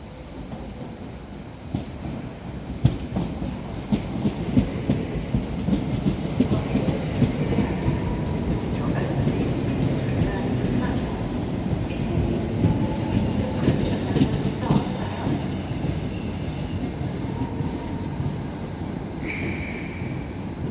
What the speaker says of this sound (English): Arriving in is going to be the 1410 Northern service to Southport from Staley Bridge at the class 769.